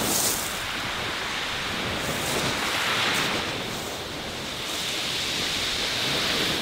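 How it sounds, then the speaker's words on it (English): Grey-day surf on a beach in mild February weather under a gentle southwesterly, a steady broadband wash of waves that swells and eases slightly, continuous and fairly close, with no voices. "We're on the beach again."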